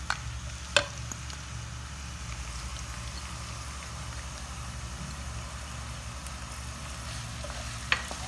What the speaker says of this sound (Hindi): अब हम इसमें प्याज कटा हुआ ऐड कर देते हैं।